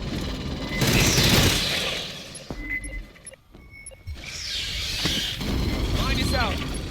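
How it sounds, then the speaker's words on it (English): Bursts of video game gunfire crackle over a busy soundscape of electronic effects in Aliens: Fireteam Elite, with quieter gaps and faint voices in between. "Must have heard the gunfire."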